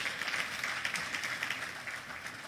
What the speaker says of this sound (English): Please, can we give him a big round of applause?